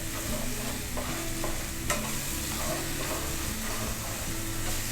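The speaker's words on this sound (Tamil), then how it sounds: "முதல்ல நெய்யை நம்ம கொஞ்சம் கொஞ்சமாக தான் ஊற்றி கிண்ட போகிறோம்" Badam halwa being stirred in ghee in a pan, a repeated scraping and sloshing rhythm over a steady sizzle, close and fairly loud, with no voices.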